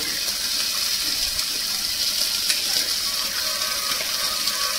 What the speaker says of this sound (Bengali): যতটা ঝোল লাগবে সেই অনুযায়ী কিন্তু আমি জলটা দিলাম